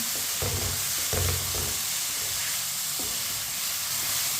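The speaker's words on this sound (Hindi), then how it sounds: "ऐसे ही चम्मच चलाते हुए पकाएं।" Tomatoes cook in a pan while a spoon is stirred through them, giving a few soft scraping knocks over a constant loud frying hiss and sizzle.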